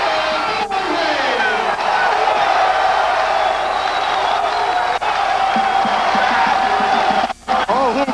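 A men's college basketball crowd, Wagner College against Rider University in 1993, cheers and roars loudly and continuously with shouts and whoops, and a commentator talks over the noise.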